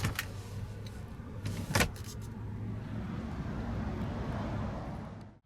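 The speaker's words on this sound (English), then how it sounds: "Powered passenger seat with power recline." An electric seat motor in a 2017 Audi A6 reclines the powered passenger seat, giving off a steady, low, faint whine that holds for about five seconds and then cuts off.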